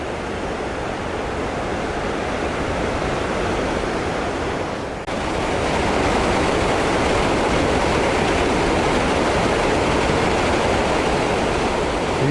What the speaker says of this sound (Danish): Der kommer jo lige lidt vand forbi en gang imellem.